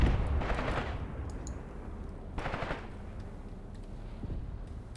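Tank and mortar fire in the Graviteam Tactics video game, two or three distant booming reports with rumbling tails spaced a couple of seconds apart over low battlefield ambience.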